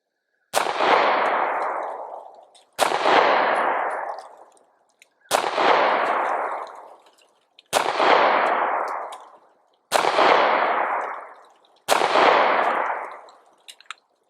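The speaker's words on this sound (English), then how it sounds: "We're gonna shoot 6 rounds on the left side of the target here." Six loud, sharp handgun shots at a shooting range, spaced about two seconds apart, each with a long booming echo that fades before the next shot.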